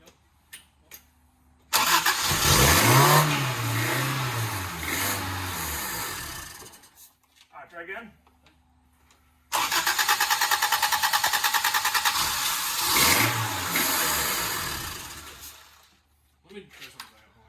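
A Toyota Tercel engine cranks without catching in two long whirring bursts of several seconds each, separated by a short pause, with people talking briefly between the attempts.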